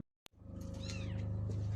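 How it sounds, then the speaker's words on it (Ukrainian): Kittens meowing in a garage, a thin high mewing cry rising over a steady low hum after a brief click, close and clear. "А в нас тут кошенятка."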